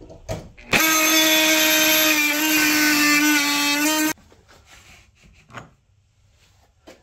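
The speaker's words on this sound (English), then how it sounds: "We have the Diablo carbide versus the wood with nails." A multitool fitted with a Diablo carbide blade cuts wood with nails, giving a loud, steady buzzing whine for about three and a half seconds that stops abruptly, followed by quieter handling clatter.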